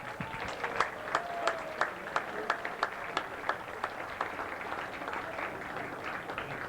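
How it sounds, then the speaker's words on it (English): Crowd at a high school football game applauding at halftime, a thin spread-out patter with a few louder nearby claps ringing out in a regular rhythm, fairly distant and steady. "give yourselves a round of applause"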